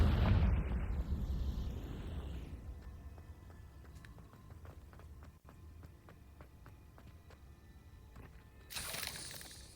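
A Confringo fire spell explodes in Hogwarts Legacy with a loud, close blast that rumbles and fades out over a couple of seconds, followed by quieter game ambience and a brief bright burst near the end.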